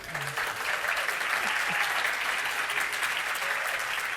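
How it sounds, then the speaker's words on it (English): Audience applause for guests on a plein air painting podcast panel, a sustained crowd clapping at close range that holds steady for about four seconds with a faint voice briefly underneath. "how about a round of applause for these guys?"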